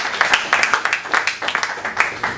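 A conference audience applauds in a short burst of uneven clapping from many hands. The clapping is fairly close and moderately loud, with no talk over it.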